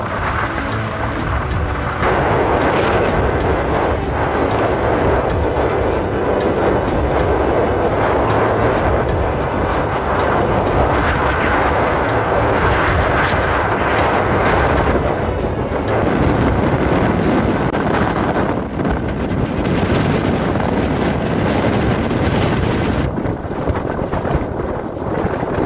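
A strong desert sandstorm roars without letup as heavy gusts buffet the microphone, a loud, rumbling rush that goes on for about twenty-five seconds with no voices.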